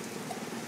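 Rain coming in through open windows at a house in the Bahamas, a dense steady patter of drops hissing close by with no voices.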